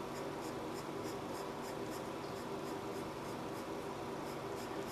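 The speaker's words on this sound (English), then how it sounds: "So I'm gonna erase every little mark that's behind this wire we just drew in." An eraser rubs pencil marks off paper, a close, steady scratchy scrubbing with a fast back-and-forth rhythm that continues throughout without any talking.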